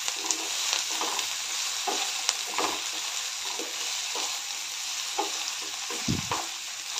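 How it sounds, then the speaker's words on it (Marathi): Ridge gourd and curry leaves sauté in hot oil with a steady sizzle, broken by occasional stirring scrapes and soft clinks of a spatula in the pan, with no one speaking. "घोसावळे आणि कढीपत्ता तेलामध्ये चांगलं परतून घ्यायचं आहे।"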